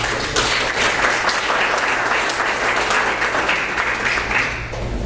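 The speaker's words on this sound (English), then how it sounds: "Give them a round of applause." A room full of people at a town board meeting applauds, a steady, dense wash of clapping holding for several seconds before tapering slightly at the end, with a low hum beneath.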